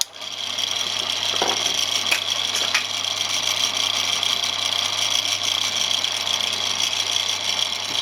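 A drill press pushes a 1.5mm bit through half-inch-thick steel, giving a steady whining machine drone at a constant level for the whole stretch, with a few faint clicks near the start.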